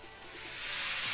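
Chicken broth poured into a pan of cooking chicken for a casserole, a steady close hiss and sizzle that swells louder as the liquid hits the hot pan, with no talking.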